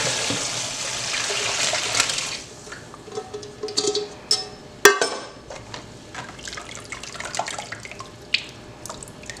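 Water pours in a gush for about two seconds as cooked food is drained in a kitchen, then gives way to scattered drips, clinks and small splashes.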